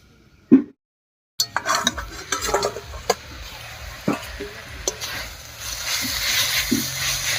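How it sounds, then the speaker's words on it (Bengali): A metal lid is lifted off a cooking pot of drumstick leaves. A short clank comes out of silence, followed by clinks and scraping clatter and a soft sizzle that builds toward the end. "এবার ঢাকাটা তুলে নিচ্ছি"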